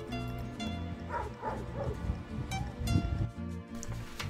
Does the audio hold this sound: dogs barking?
yes